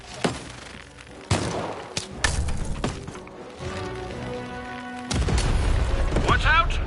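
Cannon fire in the video game Lost in Random comes as several loud booming blasts with sharp attacks and rumbling tails, mixed with other game effects and music.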